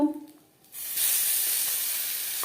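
Asafoetida hits hot mustard oil in a pan for pea kachori filling, setting off a sudden loud, steady sizzling hiss that carries on unbroken after a brief voice at the start.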